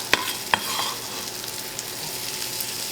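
Shallot, garlic and asparagus sautéing in a pan, a soft continuous sizzle with two sharp early clinks of a utensil against the pan, no speech.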